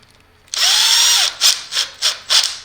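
A power drill drives screws into an explosion-proof 150-watt LED light fixture during assembly: one sustained whir of under a second, then four short, evenly spaced bursts, close and loud with no talking.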